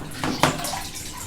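Water flows through a shaken siphon hose into a bucket, a brief splashing gush with a sharper burst partway through, close and fairly loud.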